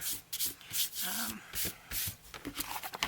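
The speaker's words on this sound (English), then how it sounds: "kind of sand off some of these pieces" Sandpaper rubs the paper edges of a hardcover journal in short, uneven strokes close by, scratchy bursts coming and going, with faint talking mixed in.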